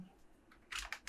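Computer keyboard typing, a few quiet scattered keystrokes followed by a quick burst of louder clicks near the end, close and otherwise silent.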